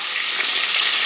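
Minced garlic sizzles in a hot pan, a steady close hiss of frying with no break in the brief moment.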